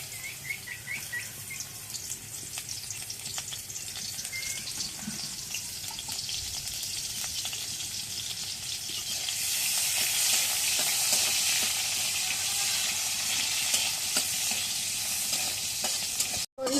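Onion and garlic fry in hot oil with a steady sizzle that swells louder and brighter partway through, accompanied by occasional stirring and faint birdsong in the background.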